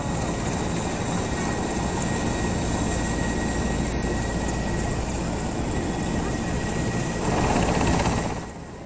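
Nepal army rescue helicopter flying over flood-hit Melamchi, a steady loud rotor and engine roar that holds evenly throughout and swells briefly near the end.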